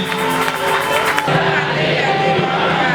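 Church congregation at a Sunday service cheering and acclaiming, a dense continuous crowd roar of voices filling the room without pause.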